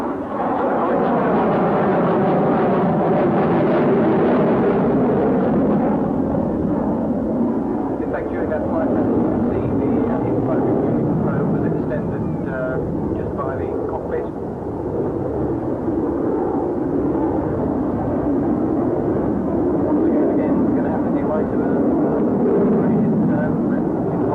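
A military maritime jet aircraft roars loudly and continuously as it performs a display at an air show, with a broad, sustained engine rumble that swells and fades slightly over the pass while a commentator talks over it.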